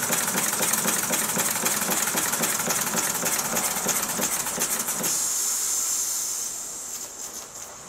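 A Mamod SP7 live steam engine runs under low steam pressure, giving a steady loud hiss with rapid rhythmic chuffing that thins out and fades toward the end.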